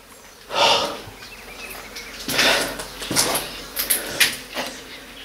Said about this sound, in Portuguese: tem muitas moscas aqui